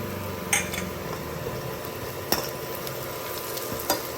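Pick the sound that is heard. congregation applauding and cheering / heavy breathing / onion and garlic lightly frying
onion and garlic lightly frying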